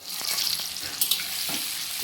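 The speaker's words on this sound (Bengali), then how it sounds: "আমি আলুটা এবার ভেজে নিচ্ছি।" Boiled potatoes with a little turmeric fry in hot oil for chicken biriyani, giving a close, steady sizzling hiss with a few stirring clinks.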